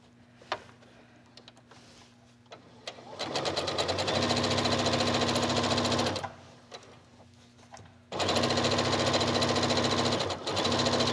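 A domestic sewing machine stitches a tuck in fabric, running in two loud, steady bursts of rapid needle clatter separated by a pause, with quieter handling noises and a low hum before and between.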